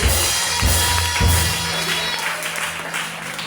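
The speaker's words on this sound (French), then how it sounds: "vous levez, vous acclamez le Seigneur pour vous-même ce matin" A church congregation rises and applauds during a Sunday morning service, loud sustained clapping with crowd noise that swells and stays dense throughout.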